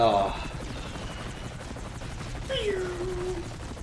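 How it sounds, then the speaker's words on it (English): A loud, steady helicopter drone in the video game 007: From Russia With Love fills the scene, with brief tonal bursts and a sliding voice-like sound over the constant rotor noise. "when you do the pause and you hear how loud the helicopter is"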